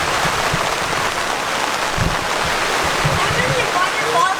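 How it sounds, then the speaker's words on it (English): Heavy rain pours down hard in a steady, dense hiss across the whole stretch, with faint voices and low bumps now and then beneath it. "it's like raining super hard"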